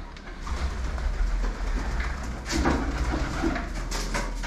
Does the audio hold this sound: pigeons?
yes